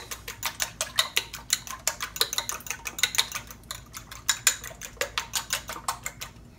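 Eggs for cornbread dressing are whisked briskly in a bowl, a quick, steady series of close clinking and tapping strokes against the sides, with no talking.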